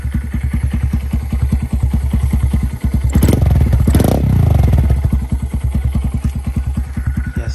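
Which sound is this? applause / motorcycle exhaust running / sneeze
motorcycle exhaust running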